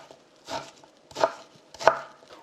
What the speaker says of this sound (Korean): 배도 좀 약간 굵게 채를 썰어 주세요.